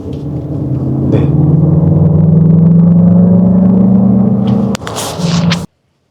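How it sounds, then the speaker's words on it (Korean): Lexus RX 500h hybrid SUV with its engine sound enhancement switched on, giving a steady, loud engine drone that climbs gradually in pitch as it revs, then a brief clunk and a short final rise before cutting off. "엑셀을 살짝만 밟아도 정말 부글부글 막 RPM이 끌어오르는 뭐 그런 느낌을"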